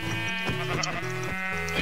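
Rapid, repeated bleats from a black sheep in Minecraft, a close, nasal series of short calls in quick rhythm with no talk.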